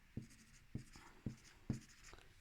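A fraction is written by hand on a surface in four distinct short strokes at a steady rhythm, close and quiet, with no talking.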